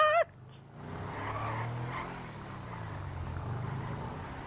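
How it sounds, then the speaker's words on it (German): A car in GTA 5 pulls away with a rising engine roar and tire noise after a brief high-pitched game sound, the motor droning on steadily at moderate loudness. "Nein! Er fährt!"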